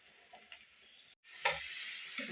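Water runs over cut eggplant being rinsed, a soft, steady hiss heard up close and quietly, broken by a short gap and then a fuller splashing burst.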